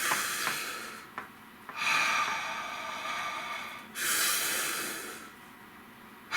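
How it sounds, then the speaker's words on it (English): Slow, deep breaths in a quiet room, two long airy inhales or exhales close to the listener, with no talking. "Nice deep breath"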